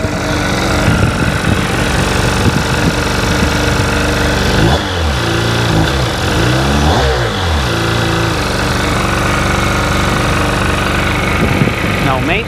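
A car engine idles steadily at about 1450 RPM, a continuous loud drone running through the whole stretch with a brief wavering mid-way, while people talk over it.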